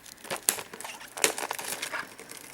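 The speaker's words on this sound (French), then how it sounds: "Il me semblait bien aussi que le plastique était vachement rigide, alors je me suis dit qu'avec des ciseaux ce serait plus pratique" Scissors cutting open rigid plastic packaging of a Pokémon Rumble box set, a series of close crinkling crunches and sharp snipping clicks, quiet and irregular.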